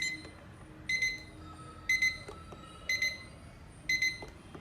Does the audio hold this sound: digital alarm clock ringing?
yes